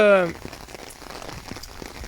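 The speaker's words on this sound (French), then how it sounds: "Et cette pluie va être bénéfique pour l'ensemble" Steady rain pattering on surfaces outdoors in the hills, faint and continuous after a short burst of speech-like sound at the start.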